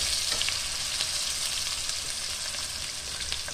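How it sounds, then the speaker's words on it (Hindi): Chopped onions browning in hot oil in a frying pan, a continuous bright sizzle with faint crackles, close and steady, with no talking. "ये प्याज को थोड़ा ब्राउन कर लेते हैं"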